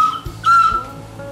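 A small Mesoamerican clay whistle sounds a thin, steady high tone, briefly swelling louder in the middle before fading, heard up close with no talking.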